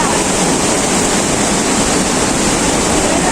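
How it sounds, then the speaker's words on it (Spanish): A river rushing beside a path near a hydroelectric plant on the Guaire River, a loud, dense, unbroken roar of flowing water filling the whole clip with no voices. "este río que tenemos a mano izquierda"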